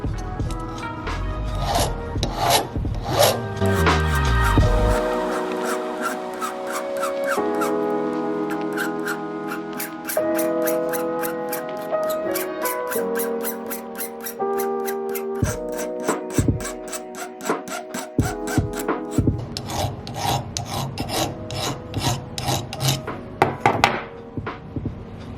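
A jeweler's file scrapes metal for grillz and jewelry making in quick repeated back-and-forth strokes, rasping close up. The rhythm speeds up toward the end, and no one talks.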